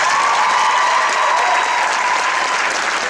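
An audience at a cheerleading team event in Brooklyn applauds loudly and steadily, dense clapping filling the whole stretch without letting up.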